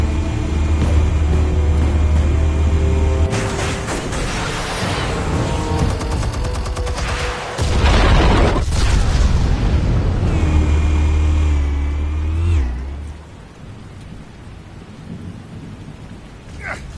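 Explosives detonating in Batman The Telltale Series, heavy booming blasts with deep rumbling and crackling debris, loud and sustained before fading to a quieter tail.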